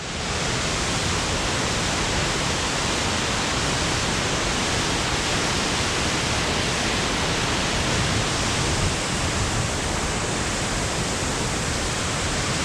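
A waterfall on Vancouver Island, seen from above a mossy embankment, roars as a loud, dense, unbroken rush of falling water that stays steady throughout.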